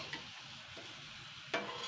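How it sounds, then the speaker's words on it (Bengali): Mung bean pakon pitha fry in hot oil with a steady soft sizzle, broken by a light stir near the start and a sharper pan scrape toward the end. "এইভাবে কিন্তু আমি সমস্তগুলো ভেজে নেব।"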